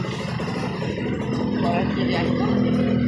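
A Kawasaki Ninja RR two-stroke motorcycle engine idles steadily nearby with a low, even exhaust drone throughout, and people talk over it.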